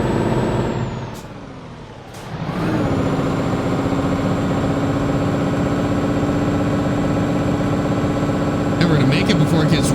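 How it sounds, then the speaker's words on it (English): A truck engine idles steadily in Euro Truck Simulator 2 while driving through Finland in the Nordic Horizons DLC, with a sharp air brake hiss and drop in revs early on, then a constant loud drone. "There's a good sounding engine though, that's for sure."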